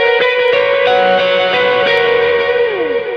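A short electric guitar lead lick from a worship song, played through effects, with bright sustained distorted notes stepping down in pitch and a reverberant, echoing tail, loud and close.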